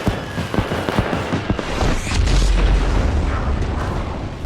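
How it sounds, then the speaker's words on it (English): Fireworks store blowing up in the video game Firework Mania: a dense, continuous barrage of booms and crackling bursts, swelling into a heavier low rumble midway and carrying on loud throughout. "There goes the fireworks store."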